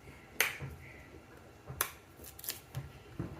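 A knife slices the skin off a cassava root, giving a few crisp, sharp snicks spaced about a second apart, close and fairly quiet with soft handling noises between.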